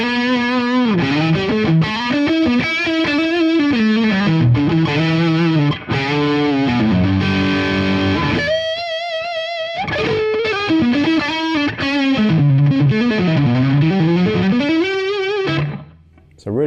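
Sustained distorted electric guitar on a mahogany-bodied Washburn Parallaxe, neck humbucker, playing melodic lines with a warm, thick tone, loud and continuous, cutting off briefly near the end.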